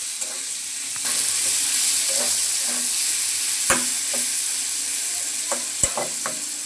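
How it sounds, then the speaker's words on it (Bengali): Potatoes, pointed gourd and rice stir-fry with spices in a pan for a Bengali vegetarian dish, giving a steady sizzle with scraping stirs and a couple of sharp utensil clinks, up close. "মশলার সাথে আর একটু কষিয়ে নিচ্ছি।"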